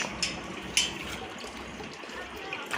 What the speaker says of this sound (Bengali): ওদের গামলা ভরে যাবে এক্ষুনি জল এসে গেছে